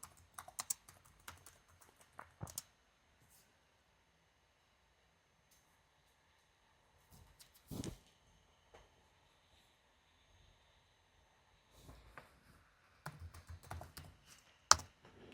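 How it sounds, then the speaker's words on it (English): Computer keyboard typing in short bursts of quiet clicks with long silent gaps between, entering a password while adding users on a Linux system; no talking. "So I'm going to type my password."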